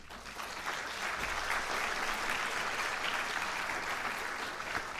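Sustained audience applause fills a public hearing on offshore wind development, a dense, steady wash of many hands clapping at even loudness from start to finish with no break.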